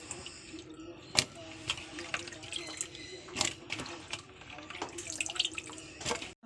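Chopped ash gourd is washed with water in a pot: splashing and trickling with sharp clinks and drips scattered throughout, and low voices in the background.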